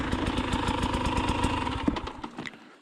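A 2020 KTM 300xc TPI dirt bike, previously drowned, runs its two-stroke engine in a steady fast rhythmic pulse nearby, then winds down toward the end with a few clicks.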